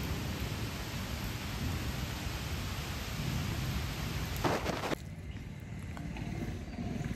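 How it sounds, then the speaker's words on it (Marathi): Sudden heavy unseasonal rain pours down in a dense, steady hiss that fills the air, with a brief louder crackle before it eases slightly toward the end. "अचानक भयानक पाऊस पडतो आहे आज"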